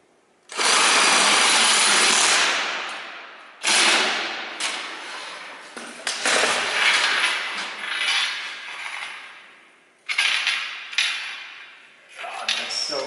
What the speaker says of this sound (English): I haven't done that with a Sawzall in forever.